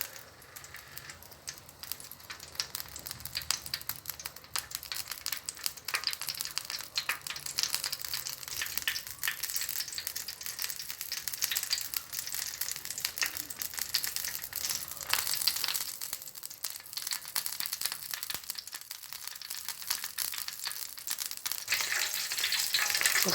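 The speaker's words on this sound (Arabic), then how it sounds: "نخليو هذاك الزيت حتى يبدي يغلي" Oil heats in a pan on the stove for karantika, giving a soft, continuous sizzle and crackle close by. It stays steady throughout with no speech.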